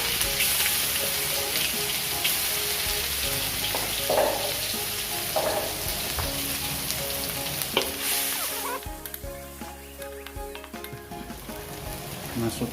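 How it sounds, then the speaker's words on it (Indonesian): Ground spice paste for rumpu rampe, an NTT vegetable dish, sizzles loudly and steadily in hot oil as it is stirred, with occasional utensil scrapes and a brief stretch of quieter frying near the end. "Kita tumis bumbu halus untuk rumput rampenya ya"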